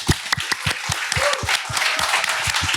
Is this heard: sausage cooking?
no